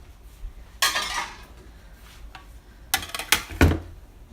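Dishes, cutlery and pots are unloaded and put away in a home kitchen. Two loud bursts of clattering and clinking ring out close by, with quiet pauses between them and no talking.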